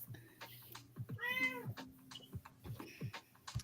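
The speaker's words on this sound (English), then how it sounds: "Yeah, she's meowing." A cat gives one clear drawn-out meow at close range, with quiet clicks and soft handling noises around it.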